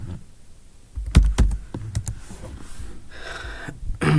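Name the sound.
typing on a computer keyboard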